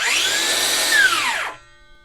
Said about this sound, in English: Check the blade brake.